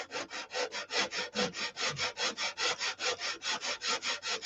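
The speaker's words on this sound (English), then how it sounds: "One landing gear in and sanding." Hand sanding of a landing gear floor in a Viper wing build: steady, rhythmic back-and-forth rasping strokes, about five per second, close and even with no talk.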